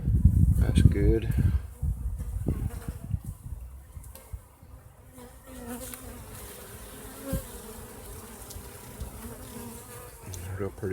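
Honeybees crowd a top bar hive as they draw fresh white comb, a dense close buzzing hum that stays constant throughout, with brief handling bumps and rustles near the start.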